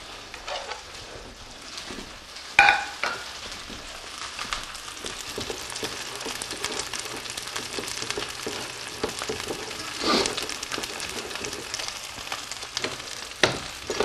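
Crusted tuna searing on its second side in a hot pan, a continuous dense sizzle with occasional louder spits and a utensil clack, heard alone without speech.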